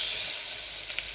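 Curry leaves sizzle in hot oil in a pan, a steady close hiss of frying with a faint pop or two, heard alone.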